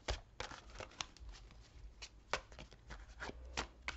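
Tarot cards are shuffled by hand for a reading, soft irregular riffles and slaps up close, faint and with no talking.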